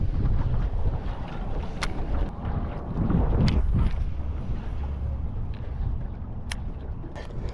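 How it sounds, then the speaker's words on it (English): Strong wind roars and buffets across a lake during a bass fishing outing, a steady loud rumble of gusts with faint rustling and a few sharp clicks, no voices. "that wind is so intense out here."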